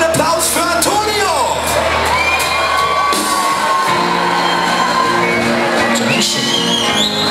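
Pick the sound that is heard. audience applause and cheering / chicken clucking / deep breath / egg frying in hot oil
audience applause and cheering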